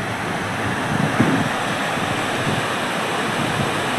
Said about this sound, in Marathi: थोडासा मस्त सुंदर धबधबा